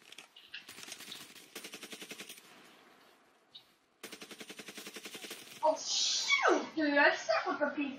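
In Call of Duty: Black Ops 3, the Peacekeeper gun fires rapid automatic bursts with a short pause between them. It is followed by loud excited shouting from players.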